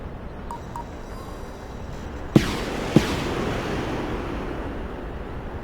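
Anti-tank guided missiles firing in the war game Broken Arrow, two sharp launch bangs less than a second apart over a steady rushing, wind-like roar, with no talking.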